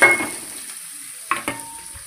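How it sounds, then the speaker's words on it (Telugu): Onions and garlic frying in about three spoons of hot oil for a rasam tempering: a soft, low sizzle with a brief stirring scrape at the start and two quick clinks of a utensil against the pan later. "ఇంకా ఒక 3 స్పూన్స్ ఆయిల్ వేసుకొని ఉల్లిపాయలు, వెల్లుల్లిపాయలు,"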